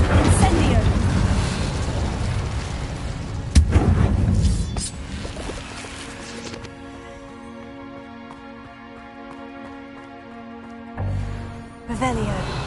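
Incendio fire spell cast in the video game Hogwarts Legacy, a loud burst followed by a rushing whoosh and a low rumbling roar that fades to a sustained tonal hum before a second short blast near the end.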